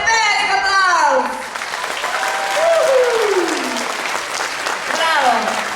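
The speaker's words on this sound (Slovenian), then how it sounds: "dobimo en velik aplavz" Broadband applause from a group at a 2013 Christmas party, sustained throughout with voices and excited calls rising over the clapping near its start, middle and end.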